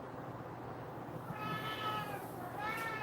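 A cat meows for treats, two drawn-out meows in the second half, moderately close over a quiet room hum.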